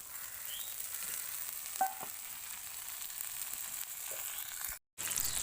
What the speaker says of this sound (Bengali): তেলের সাথে লঙ্কাটা একটু ভেজে নিয়েছি